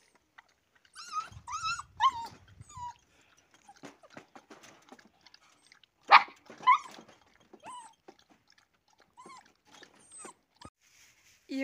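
Puppies whimper and let out short, high yelps in scattered bursts on a farm visit. Fairly close and moderately loud, with quiet gaps between the cries.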